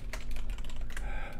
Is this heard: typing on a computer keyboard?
yes